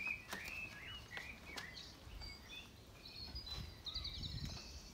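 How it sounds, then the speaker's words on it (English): Birds sing in a British garden, with several faint chirps and short whistled phrases scattered across a quiet outdoor background. "The birds are still singing."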